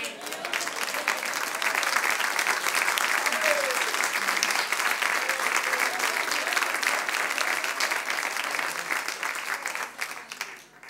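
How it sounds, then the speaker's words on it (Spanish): A congregation at a church service claps for about eleven seconds, giving a dense, steady round of applause that tapers slightly at the end. "Deme un aplauso aquí"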